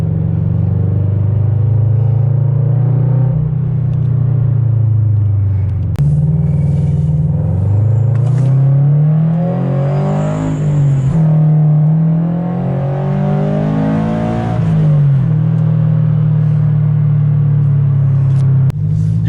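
A car with a stage 2 tune, unequal length header and E85 fuel revs up, its steady low engine drone rising and falling in pitch through several loud, close accelerations with no talk.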